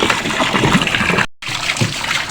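Water pours steadily from a hose on an island, a continuous close rushing trickle with one brief dropout partway through.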